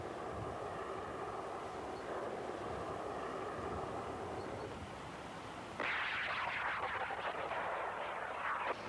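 An anti-tank missile fires from its launcher, a 1980s wire-guided, infrared-tracked weapon. A loud, sustained roar of rushing noise sits under distant rumble and grows harsher and brighter partway through.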